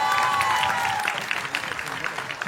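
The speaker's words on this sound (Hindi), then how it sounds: "सो जोरदार तालियां." An audience applauds at the Tu Yaa Main film trailer launch, a dense wash of clapping from a crowd that fades slightly toward the end, with a voice briefly audible underneath.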